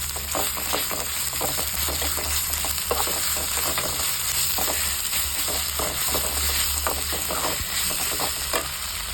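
Ginger garlic paste sizzles steadily in hot oil with mushroom and broccoli, broken by repeated scraping stir strokes from a spoon, close and continuous with no talking.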